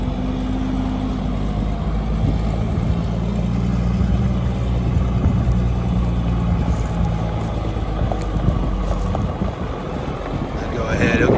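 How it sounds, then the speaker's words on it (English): A 2007 Mack Granite CV713 dump truck's diesel engine runs with a steady, heavy low rumble at close range, mixed with wind noise, and brief voices are heard at times. "Real good sounding truck, guys."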